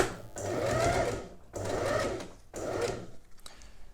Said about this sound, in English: So we're going to go ahead and put this in the machine. And stitch away at 1 cm.